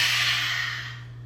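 A deep, airy exhale during a yoga forward fold, one long breath close to the microphone that fades away over about a second.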